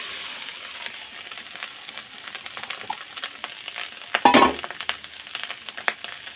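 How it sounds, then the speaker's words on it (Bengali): Leftover cooked rice, salted, fries in a pan with a steady close hiss of sizzling, broken by a brief clatter of stirring near the middle and light scrapes toward the end. "দিয়ে ভালো করে এবার ভাজা ভাজা করে নেব।"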